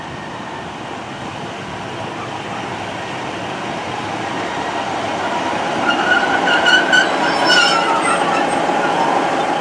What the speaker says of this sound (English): So our train should be arriving now, the 1405,